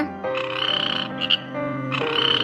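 Cartoon frog croaking in a continuous series of loud, close croaks that break briefly twice and then resume, with no voices.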